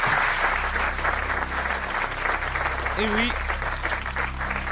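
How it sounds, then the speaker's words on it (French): Steady, dense applause from a TV quiz show studio audience fills the whole stretch, with a voice briefly speaking over it. "Des applaudissements pour vous souhaiter bonne chance, mon cher agent confidentiel"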